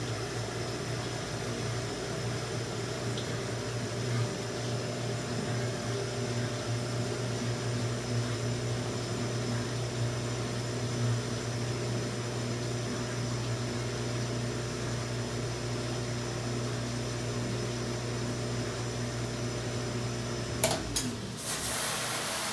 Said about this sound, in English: That's the rinse you're hearing right now.